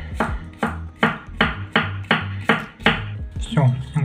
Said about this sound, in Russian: Все, огурцы нарезал.